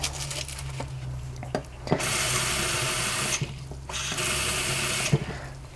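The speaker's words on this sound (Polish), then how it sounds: "Teraz podlejemy wodą, na razie zwykłą." Ordinary water poured from a vessel onto a slightly dried-out Epiphyllum in a planter filled with loose, airy potting mix, two steady splashing pours separated by a pause, with soft knocks around them.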